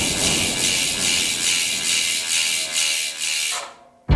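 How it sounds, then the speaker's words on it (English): Rapid, continuous ratcheting clicks from the freehub of an Aim One SL1200 carbon bicycle wheel spinning freely, pulsing slightly in loudness before slowing and stopping, followed by a short knock. "One more thing, the free hub. I need to hear it and I know you need it too."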